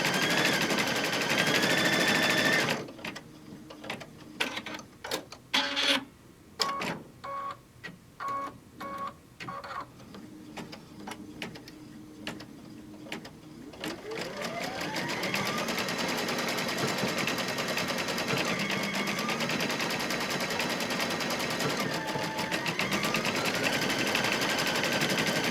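On a mug wrap in the hoop, an embroidery machine stitches the last word: a loud, even whir at first, then a stretch of uneven clicking bursts, then a steady, close stitching drone for the rest.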